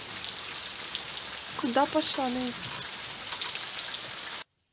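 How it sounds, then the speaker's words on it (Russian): Steady rain patters and hisses on surfaces throughout, while a woman asks a brief question partway through; the sound cuts off abruptly at the end. "на улице идет дождь"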